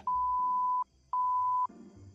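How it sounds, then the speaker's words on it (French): Two steady electronic censor bleeps, the first longer, separated by a short gap, with faint muffled background sound between and after them. "La machine à bip a beaucoup servi."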